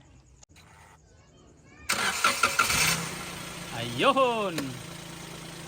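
A Toyota Wigo with a misfire starts up after a quiet stretch: the engine catches abruptly and settles into a steady, close idle, while someone speaks briefly over it.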